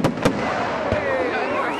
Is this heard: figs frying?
no